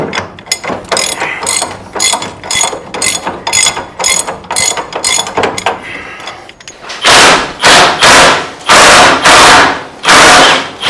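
A 3/4 inch ratchet socket wrench clicks rapidly and loudly while loosening bolts for steering box removal on a 1957 GMC truck, first in short, quick bursts of clicks, then in heavier, slower strokes.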